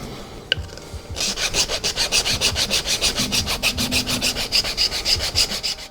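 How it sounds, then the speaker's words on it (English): A file rasps against a plastic centre air-con vent part from a 2018 Jaguar F-Type. After a brief quiet start, a fast, even run of close scraping strokes follows, with no talk. "So I'm going to get a file and see if I can just get those, with a bit more play in them."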